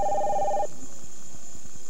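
A telephone rings in a two-tone burst indoors during a television comedy sketch, loud and clear for under a second, then cuts off into quiet room tone.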